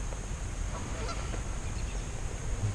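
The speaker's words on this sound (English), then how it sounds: "Geese are talking to each other." Geese honk back and forth near a lakeshore beach during a winter nature walk, the calls soft and somewhat distant over a steady outdoor background noise.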